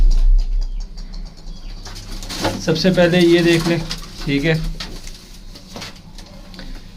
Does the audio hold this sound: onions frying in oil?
no